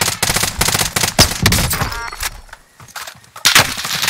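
Gunfire in a Call of Duty Warzone match, loud close bursts of rapid automatic shots in quick clusters, a brief lull, then another burst near the end.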